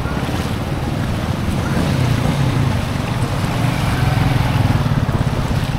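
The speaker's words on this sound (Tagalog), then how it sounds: "Alakas ang agos!" Strong monsoon floodwater rushing through a submerged street in Malolos, a loud continuous roar of churning current and waves with heavy wind buffeting, steady and close.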